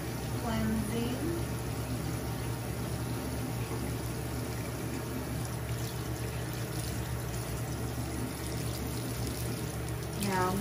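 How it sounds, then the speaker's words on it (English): Water pouring and running steadily to wet a skincare towelette, a constant close rushing flow with faint gurgles, muffled voice briefly heard under it. "Now I'm gonna wet my towelette."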